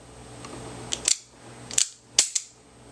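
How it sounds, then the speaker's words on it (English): Hammer of a Smith & Wesson Model 17 K-22 double-action revolver being cocked, giving a few sharp metallic clicks close up, in two quick pairs, with no talking. "You can either cock it for each shot"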